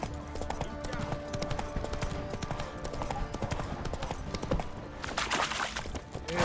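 In The Witcher 3 a horse gallops with rapid, rhythmic hoofbeats close by and continuous throughout, and a gust of wind or rushing noise swells near the end.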